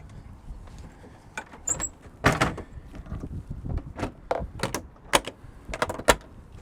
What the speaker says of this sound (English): we just close the clamshell doors